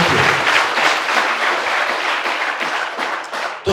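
Loud, dense applause from a group of children and adults rewarding a child's correct answer during an outdoor event in Rudraprayag, steady clapping throughout that stops abruptly at the end.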